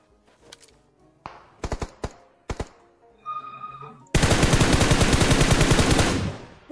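Gunfire in PUBG Mobile: a few separate sharp single shots and short bursts, then a loud sustained stream of rapid automatic fire lasting over two seconds, close and dominant.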